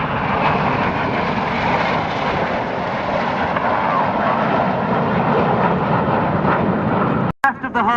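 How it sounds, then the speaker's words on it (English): A Red Arrows jet flies at the Swansea airshow, a continuous loud roar of engine noise that stays steady before a sudden brief dropout near the end, with a commentator talking over it. "You'll see a single jet, which is Red 9."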